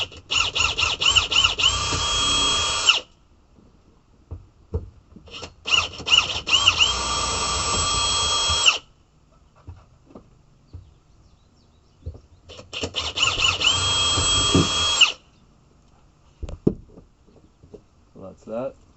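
A power drill boring a small screw hole for a Cannon downrigger flush-mount socket runs in three sustained bursts of a few seconds each, whining loud and close, with short clicks and rattles between bursts.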